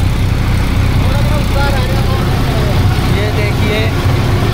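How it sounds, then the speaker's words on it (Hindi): Massey 241 tractor engine running steadily with a rotavator attached while puddling a field, a continuous low rumble throughout with someone talking over it. "देखो भाई मैसी 241 से कद्दू कर रहे हैं रोटावेटर के साथ"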